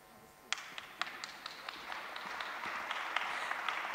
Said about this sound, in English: Please don't stop clapping.